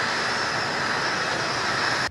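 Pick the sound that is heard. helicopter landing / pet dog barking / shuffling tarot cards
helicopter landing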